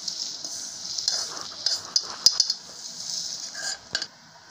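Samela payasam being served onto a plate, light metallic clinks and scrapes of a spoon against the dish at close range, scattered taps over a steady faint hiss.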